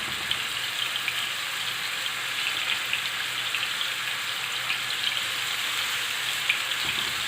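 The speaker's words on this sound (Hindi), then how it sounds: "ऑयल गर्म हो चुका है, इसमें अब कबाब डालते हैं।" Beef kababs fry in hot oil with a continuous, even sizzle and fine crackling pops, close and moderately loud, holding steady without pause.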